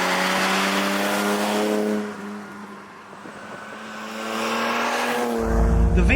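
A vintage Aston Martin DB2 Vantage inline-six engine revs hard, its pitch rising and falling through a smooth, throaty drone before surging again near the end.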